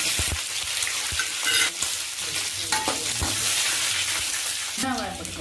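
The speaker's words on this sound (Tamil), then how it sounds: "இது அப்புறம் வரமிளகா போட்டுக்கணும்." Dried red chillies frying in hot oil for a Tamil-style uppu kari, a steady close sizzle with clinks and scrapes of stirring throughout, no talk over it.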